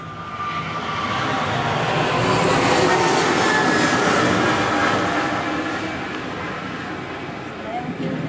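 A jet airliner roars on its take-off run at Sydney Airport, bound for Los Angeles, a broad sustained rumble building and then slowly fading, with a voice speaking over it.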